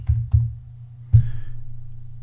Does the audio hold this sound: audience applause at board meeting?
no